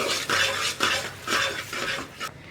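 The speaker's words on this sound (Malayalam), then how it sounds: "ഏലക്കാപ്പൊടിയും കൂടി ചേർത്തിട്ട് ഒന്നുകൂടി ഒന്ന് മിക്സ് ചെയ്യാം" Spoon stirring cardamom powder into ghee rice payasam in a pot, a series of scraping, clinking strokes about every half second, close and fairly loud with no talking.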